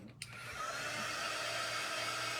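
Hair dryer drying paint on a decoupage craft piece, switching on with a click and then a steady, loud, close whooshing hum that runs without a break.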